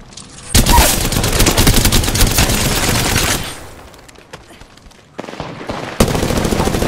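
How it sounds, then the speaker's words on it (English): Gunfire in a shooter game on the Kings Canyon map: loud, rapid fully automatic bursts for several seconds, a quieter lull with scattered distant shots, then more close bursts resuming. "Getting shot at."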